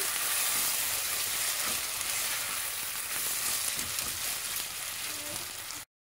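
Loud, steady sizzling and hissing as water is poured into a hot pan of frying rice, vermicelli and spices, filling the whole stretch, then cutting off abruptly at the end.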